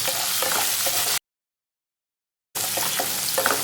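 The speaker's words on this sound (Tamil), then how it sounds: "தக்காளி சேர்த்து நல்லா கிளறி விடுங்க." Chopped tomato sizzles and is stirred with onions in a hot pan for a chutney, a steady loud frying hiss with scraping stir strokes, broken by a stretch of total silence midway.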